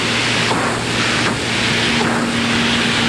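Engine of an Extra 300L aerobatic plane climbing, a steady loud drone with a constant low hum and airflow rush, swelling slightly in waves throughout, heard from inside the cockpit.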